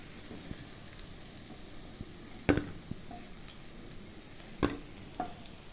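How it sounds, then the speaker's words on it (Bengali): Cabbage fritters frying in oil give a soft, steady sizzle, broken by a few sharp clinks and stirring taps. "তারপরে একে একে আরও ভেজে নিচ্ছি।"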